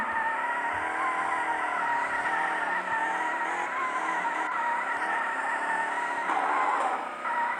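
A handbrake drift in a drift racing video game: a steady, loud engine drone with wavering pitch runs throughout, with a brief burst of tire skid near the end and no talking.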